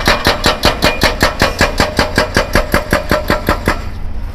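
A heavy diesel tractor or excavator engine chugs loudly in a fast, steady rhythm close by in a residential area under construction, then cuts out near the end.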